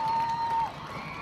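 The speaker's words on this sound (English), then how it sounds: "The Lakeshore crowd hyped up." A high school football crowd at Lakeshore High cheers as a steady, loud, blended roar from the stands, with a whistle-like tone sounding over it for the first half second.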